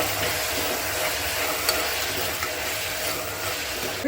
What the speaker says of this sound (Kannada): ಇವಾಗ ಟೊಮೆಟೊ ಹಣ್ಣು ಹಾಕೊಂಡ್ಬಿಡೋಣ. ಹಾಕೊಂಡು ಚೆನ್ನಾಗಿ ಇದನ್ನು ಹುರ್ಕೋಬೇಕು.